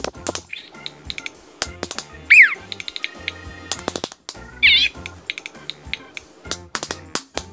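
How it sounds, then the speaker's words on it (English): Hatchimal spider toy tapping out a rhythmic pattern of sharp clicks and taps, interspersed with short chirpy electronic toy noises, close and distinct with brief pauses between bursts. "He taps a pattern and we clap back"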